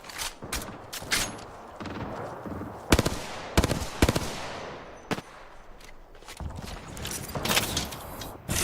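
Gunfire in the battle royale game Apex Legends: scattered bursts and single sharp shots with quieter stretches between, some loud and close, others more distant, with no talking.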